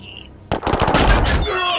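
Gunfire in the turn-based video game Warhammer 40,000: Chaos Gate – Daemonhunters, a sudden loud burst of rapid shots rattling like a machine gun for about a second, close and dense, then fading into a ringing tail.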